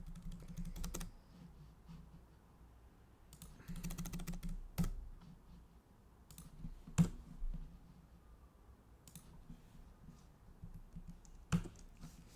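Typing on a computer keyboard while writing SQL code, with quick bursts of close key clicks separated by pauses and a few louder single taps, no voices.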